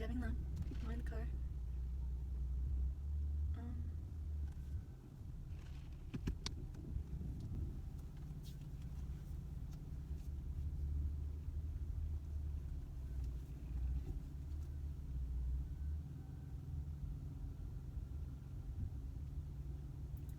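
Inside a moving car, a steady low engine and road rumble runs the whole way through while people talk over it.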